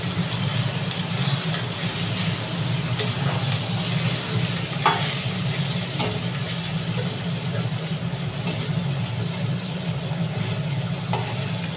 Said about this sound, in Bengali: আমি এটাকে চিকেনটাকে এপিট ওপিট করে পুরো লালচে করে ভেজে নেব